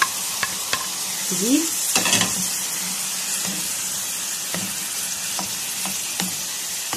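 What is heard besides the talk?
minced meat and onions frying in a pan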